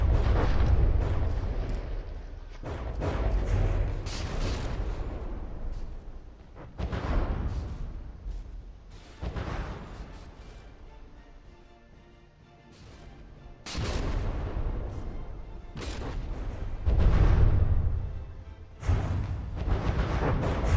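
Warship shells firing and striking in the From the Depths naval combat game, a relentless barrage of deep booms and blasts rolling in heavy waves, with a brief lull before the pounding resumes.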